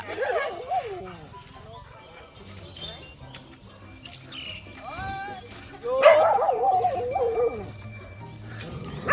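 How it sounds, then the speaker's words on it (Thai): A dog barks and yips in short, uneven bursts, fairly close, while a person talks over it throughout. "ไปเห่าทำไมเขาเนระฮะเตอ"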